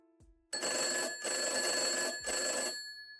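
A telephone bell rings in three loud, rattling bursts with short gaps between them, close and alone, with a faint soft sound just before the first ring.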